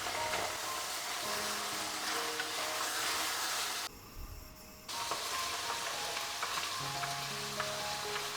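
Ivy gourd pieces frying in oil in a pan, a steady close sizzle with light crackle that cuts out briefly and then resumes, with no talk.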